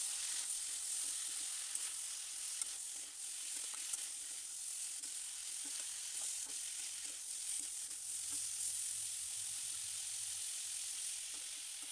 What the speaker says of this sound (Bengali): কড়াইটা গরম করে একটু তেল দিয়ে তারপর পেঁয়াজটা দিয়ে দিলাম